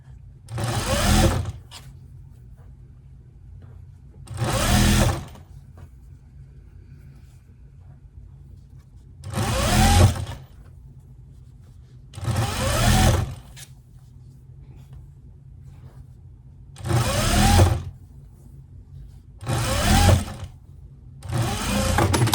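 A sewing machine stitches a quarter-inch seam on a wool cloche hat, running in about seven separate bursts of a second or two each, with quiet pauses between them.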